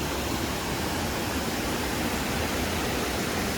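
A Tennessee waterfall roars in a dense, unbroken wash of rushing water, loud and steady, with no other sounds standing out.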